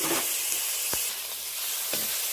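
Chopped green chillies and small pieces of tomato fry in a hot pan with a loud, continuous sizzle. A couple of brief knocks of a spatula sound over the hiss. No one speaks.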